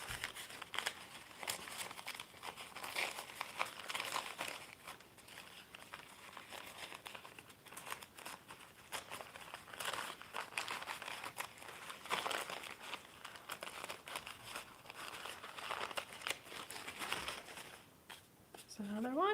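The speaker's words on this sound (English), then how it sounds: "I'm just gonna rip these." Paper napkins being torn by hand for decoupage Easter eggs: soft, quiet crinkling and ripping close by, repeated in short bursts and with a low steady hiss between them.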